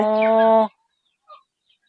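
A single loud, drawn-out call from a native Thai chicken on a mixed farm, close by and alone, then a faint short cluck after a pause.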